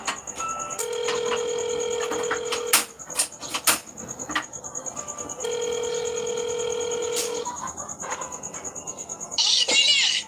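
A telephone rings for a phone call, two long trilling bursts separated by a pause, with clicks and light rustling between them and brief speech near the end.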